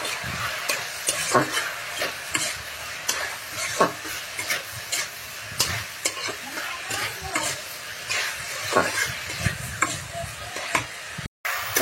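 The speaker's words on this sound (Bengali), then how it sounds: "আলুটা একটু ভেজে নেব, তারপরে আমি টমেটো দেব।" Potato pieces fry in oil in a pan while being stirred, steady close sizzling broken by repeated scraping strokes of a spoon at an uneven rhythm, with no talk.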